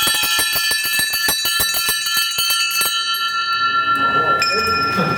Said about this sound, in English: I've got to ring these bells.